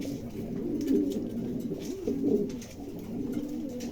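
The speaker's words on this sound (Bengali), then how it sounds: "চমৎকার 3 জোড়া কবুতর, ভালো লাগলে" Pigeons offered for sale coo nearby in soft, repeated low throaty calls that rise and fall across a few seconds, with faint background noise and no talk.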